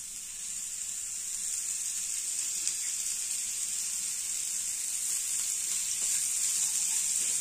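Radish fries (mooli) sizzle in a spoonful of oil in a pan, a steady bright hiss that holds at an even, close-up level throughout with no voices.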